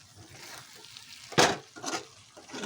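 Shrimp fry in hot oil for a Bengali potoler dorma filling, a faint sizzle broken by a louder splash and crackle as the pieces are stirred, with softer scraping bursts after.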